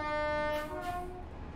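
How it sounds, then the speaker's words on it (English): A freight train in the Train Sim World 4 video game sounds a long, steady two-tone horn that cuts off abruptly, leaving a low rumble behind. "Ooh, freight train."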